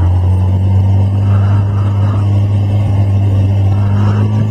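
Motorcycle cruising along a road on the University of Texas at Austin campus on a mild day, with a loud, steady low engine drone and buzzing exhaust note, wind rumble mixed in, constant throughout.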